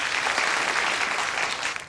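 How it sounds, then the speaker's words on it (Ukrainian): Studio audience applause on a Ukrainian-language game show, brief and steady, with a full crowd clapping evenly throughout. "Ваші оплески."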